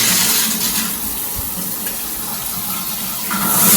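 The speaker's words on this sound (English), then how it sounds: "A lot of water." A newly fitted plastic shower head sprays a steady, loud rush of water, a broad hiss that holds evenly throughout and swells slightly at the end, with no voices.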